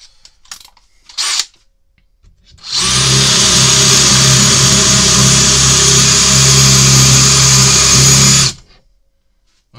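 A DeWalt percussion drill, set to second speed in drilling mode, bores a 15 mm hole with a cheap bit, running loud and steady for about six seconds after a few brief knocks, then cutting off.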